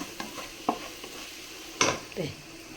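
Masala with cloves and crushed cardamom sautéing for egg biryani, a soft sizzle interrupted by a few sharp stirring scrapes in the pan, with no voices.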